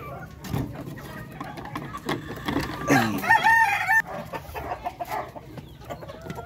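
Native Darag chickens on a farm cluck steadily at close range, with a rooster's crow rising in the middle over the background fowl chatter.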